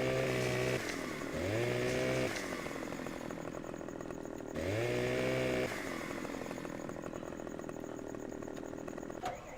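A chainsaw cutting tree branches in Farming Simulator 2015 drones loudly and continuously, its engine pitch rising and falling twice as it revs up into the cut.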